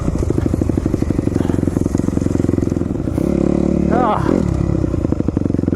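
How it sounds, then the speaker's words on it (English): A four-stroke dirt bike engine runs close and loud with a rapid, throbbing pulse. It holds steady, then winds up into a higher rev before dropping back to a choppy beat. "Bike is definitely a fire breather, and there's no match for 4 strokes over rev capability."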